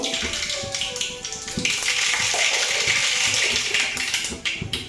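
Spices are dropped into hot oil to temper dal, giving a loud, steady, close sizzle with crackling pops that runs continuously throughout.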